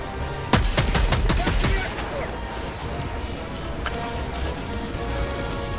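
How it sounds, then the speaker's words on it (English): Gunfire in the video game Helldivers 2, a quick volley of sharp, loud shots in the first two seconds, then fading into a rumbling background of distant battle noise. "Take some pot shots."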